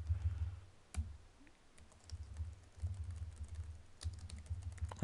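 Typing on a computer keyboard while entering data into Excel: irregular bursts of close, crisp key clicks with short pauses between runs, with no voices heard.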